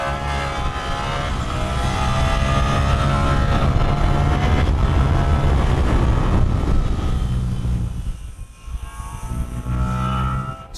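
A Ducati Panigale V4 at full throttle in second gear on a Dolomites road, its engine screaming loud and rising toward 15,000 rpm, sustained high-pitched roar with wind rush before easing off near the end.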